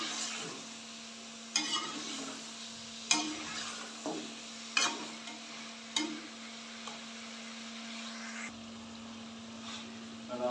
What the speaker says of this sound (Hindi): 5 मिनट के लिए इसे भूनेंगे।